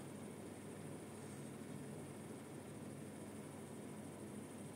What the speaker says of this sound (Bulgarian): Това е шумът, който издава на максимални обороти.